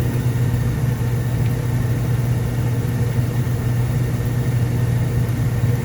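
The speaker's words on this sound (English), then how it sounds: "blower is on" A gas furnace blower runs with a steady, loud, low droning hum and broadband whoosh of moving air, unchanging throughout and close.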